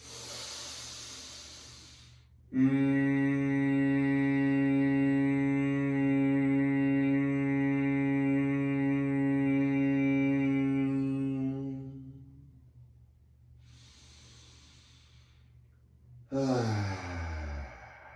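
A long, steady humming exhale of Brahmari bee breath during a yoga session, holding one low voiced tone for about ten seconds before fading, followed by a short breath and a brief rising vocal sound.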